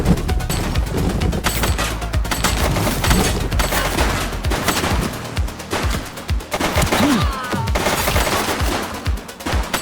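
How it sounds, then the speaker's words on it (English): A police shootout in the video game The Precinct brings near-continuous loud gunfire, rapid overlapping shots and bursts for about ten seconds, with heavier booming reports scattered through the mix. "She's shooting!"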